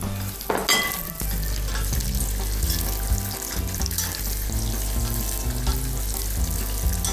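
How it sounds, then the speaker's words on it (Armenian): Raisins, almonds and walnuts fry gently in a pan over low heat, giving a steady soft sizzle with occasional stirring scrapes and a short rush near the start, with no talking. "Թույլ կրակի վրա մի փոքր տապակում ենք"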